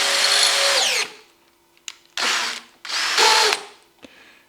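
A power drill fitted with a carbide burr bores holes sized for 3/8 inch bolts, loud close whining bursts that start and stop in three runs, with a brief clatter between them.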